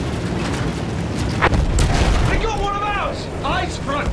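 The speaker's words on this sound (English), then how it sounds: "Artillery's tearing the boys apart!" Heavy artillery explosions in Battlefield 1, deep booming blasts and a low rumble rolling beneath loud battlefield shouting, one sharp burst standing out amid continuous war din.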